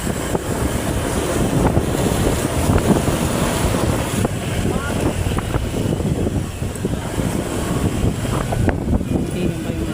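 Strong wind buffets a microphone outdoors, a continuous loud rumbling roar with gusty fluctuations throughout and no clear speech.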